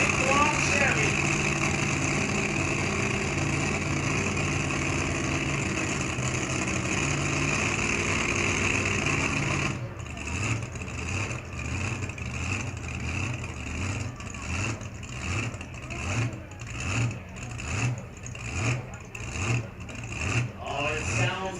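A 1935 Chevy truck fitted with a 540 cubic inch big-block Chevy engine runs loud and close at a live motor event, holding a steady idle before breaking into rhythmic revving bursts, with people talking over it.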